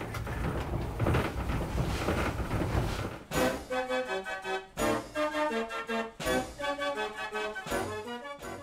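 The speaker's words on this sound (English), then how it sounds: "what you're hearing from the organ itself is a live acoustic performance" Mechanical pipe organ playing a live acoustic performance from a programmed punch card; a dense sustained wash gives way to a rhythmic, bouncy tune of punctuated chords and melody, fairly loud and without voices.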